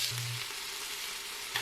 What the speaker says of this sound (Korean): 냄비 준비하고 예열한 다음 기버터 약간 넣어 잘라놓은 양파를 모두 넣으세요.